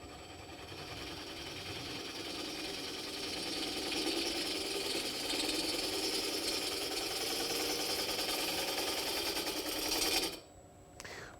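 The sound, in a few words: Tormek diamond wheel sharpening a tool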